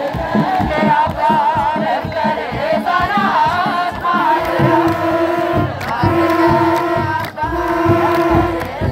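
A church congregation ululates in praise, shrill trilling voices layered in long sustained bursts, loud and close, with a crowd murmur beneath and a speaking voice over it.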